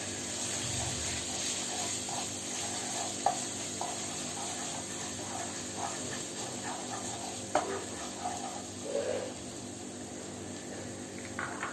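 Ginger garlic paste frying and being stirred in a hot pan gives a continuous broad sizzling hiss with a few faint clicks of the spoon, and no one speaks.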